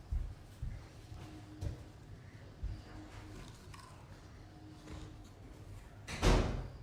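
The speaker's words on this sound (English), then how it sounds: "can you go shut that door for me, Ben?" A door thuds shut with a firm bang near the end, after a quiet stretch of faint knocks and household bumps.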